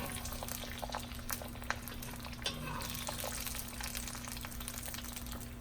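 Sausage sizzles steadily in a Lodge cast iron wok, pork sausage and Chinese sausage frying with a continuous crackle and scattered small pops, fairly close and with no talking.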